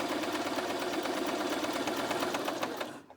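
A domestic sewing machine runs a zigzag stitch at normal stitch length, giving a steady, rapid mechanical chatter close by that continues evenly before stopping abruptly at the end.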